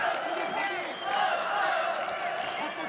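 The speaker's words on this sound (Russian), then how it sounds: "Зал снова ликует и аплодирует" Arena crowd at an MMA fight roaring, cheering and applauding for a Kazakh fighter, a dense sustained wall of voices and claps chanting his name.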